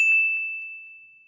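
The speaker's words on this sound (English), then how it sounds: "hit that notification bell" A single bright notification bell ding rings out, clear and close, then decays smoothly into a long sustained tone that fades to silence.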